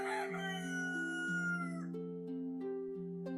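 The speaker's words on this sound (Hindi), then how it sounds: "दूर कहीं मुर्गे की आवाज गूंज रही थी।" A rooster crows in long, drawn-out stepped calls that carry across the quiet, followed by another crow starting near the end, sounding somewhat distant.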